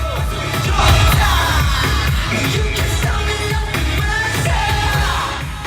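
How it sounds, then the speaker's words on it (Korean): A large crowd at a concert in Paris, a Korea-France friendship show, roars and cheers loudly and without a break, with shrill screams rising above the din. "공연이 절정으로 치닫자 환호성은 더욱 커졌고"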